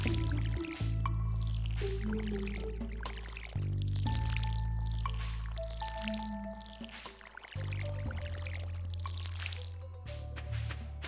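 Plants being watered in Stardew Valley, soft pouring and dripping splashes repeating over steady background game music, without any talking.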